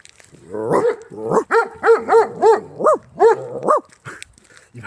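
A person imitates a dog barking with a quick run of about eight voiced, yelping barks, close and fairly loud, followed by quieter breathy sounds.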